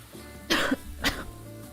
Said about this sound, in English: Wanted to talk, started coughing.